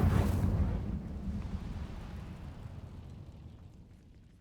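Incendio fire spell cast in the Hogwarts Legacy video game, a sudden loud whooshing burst at the start that fades into a long, dwindling low roar.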